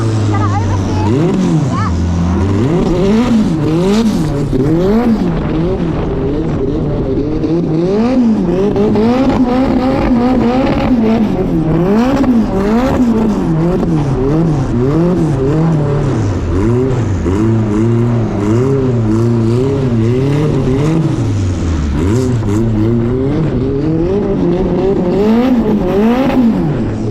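K24-swapped Nissan 180SX drifting on a wet skid pan, its engine loud and close, rising and falling in repeated revving swoops as the throttle is worked continuously, with some talk mixed in.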